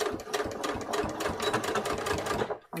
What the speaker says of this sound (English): I'm going to just stitch my 1/2 inch seam allowance here.